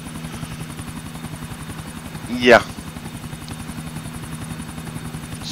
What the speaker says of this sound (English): Fly a chopper and,